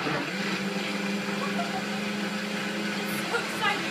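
A Vitamix blender whirs at high speed with purified cold water, a steady muffled motor hum with a faint high whine, moderately quiet and continuous while a voice talks over it.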